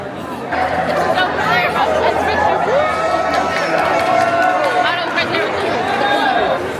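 A crowd chatters at an IKEA store's opening day in Syracuse, a dense babble of many overlapping voices nearby, steady and lively, with individual speakers occasionally rising above the hubbub.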